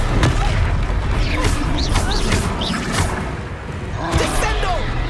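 Spell effects crackle and boom during a Hogwarts Legacy video game duel, several whooshing casts and crashing hits in quick succession, loud and near, mixed with voices and battle noise.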